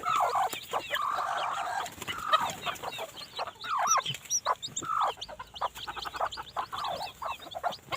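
Short-legged Thai bantam chickens clucking and calling in a free-range village yard, a busy mix of near and farther clucks and squawks in irregular bursts with no talk.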